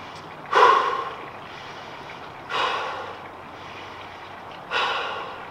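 Someone breathes heavily during an at-home workout: three strong, close exhales, spaced about two seconds apart, each a rough, gasping rush of air.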